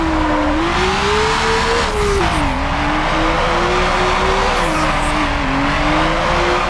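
Tires squeal continuously as a race car slides sideways in drift mode in Need for Speed Underground, a loud wavering screech over steady engine roar, with no talking.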